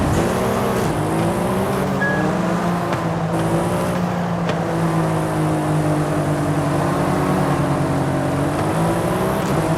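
BMW M4 and M5 sports cars racing past in Forza Horizon 5, loud sustained engine roar with shifting revs, the pitch rising and falling as they pass close by.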